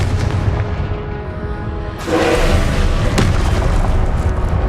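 A Confringo spell explodes in Hogwarts Legacy as a loud, dense boom with a heavy rumbling tail and a sharp burst partway through, close and alone.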